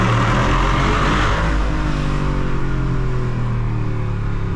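A 2021 Jeep Wrangler with the 6.4 HEMI V8 accelerates hard in second gear, a loud, close engine roar with rising pitch filling the cabin.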